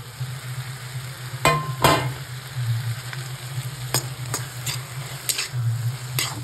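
Capsicum and tomatoes stirred in a hot pan for a dhaba-style shimla mirch sabji, a steady low sizzle broken by a few sharp spatula scrapes and clinks, close and fairly loud with no voices.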